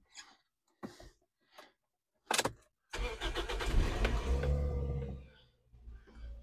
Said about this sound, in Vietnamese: nổ máy cho anh em mình nghe luôn chứ